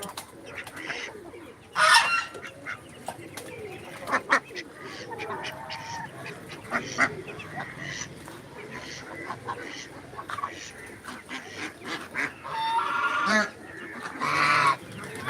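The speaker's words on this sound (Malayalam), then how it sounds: "ഇതാണ് ബോയ് ഇന്ത്യൻ റണ്ണർ ഡക്കിന്റെ സൗണ്ട്" Indian Runner ducks quack and honk in scattered loud bursts, several birds calling near and far against a quieter background, with occasional voices.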